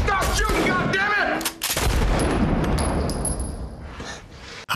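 Heavy, dense gunfire from a shootout in the film Django Unchained, a near-continuous volley of loud shots that breaks off briefly and then resumes with sharper cracks and a high ringing tone.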